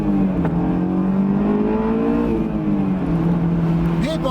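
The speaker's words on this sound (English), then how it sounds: "So when the windows are down, you hear that engine noise" Honda S2000 engine accelerating with windows down, a loud droning exhaust note whose pitch climbs steadily, dips at a gear change, then rises again, heard from inside the cabin.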